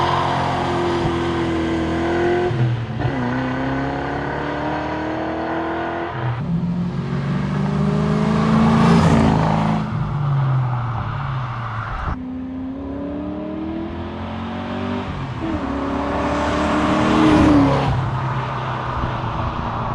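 A Ford Fox test car fitted with a Silver Sport Transmissions shifter kit and a hydraulic clutch drives hard, its engine revving up and dropping at each gear change in repeated rising sweeps, loud and close, with no talk.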